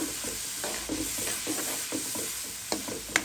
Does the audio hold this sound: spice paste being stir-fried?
yes